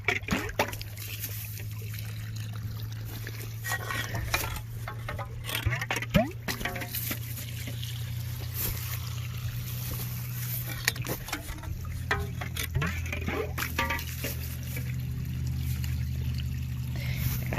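Water trickles and patters steadily through a siphon tube drawn from an irrigation ditch outdoors, with a constant low hum underneath and a few scattered knocks.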